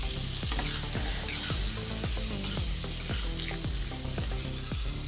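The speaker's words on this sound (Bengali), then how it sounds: "দিয়ে বেশ ভালো করে নাড়াচাড়া করে আলুগুলো আমি 1 মিনিট মতো মশলার সাথে ভেজে নেব।" Cut potatoes fry with spices in a hot pan, a constant close sizzle broken by regular scraping stir strokes that come in a steady rhythm about twice a second, with no voices.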